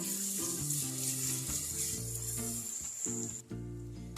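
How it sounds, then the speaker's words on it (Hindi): Spices with ginger and green chili paste fry in a pan for a mutton brain dish, giving a steady sizzling hiss heard beneath background music. "अब हम 5 मिनट के लिए मसालों को भूनेंगे"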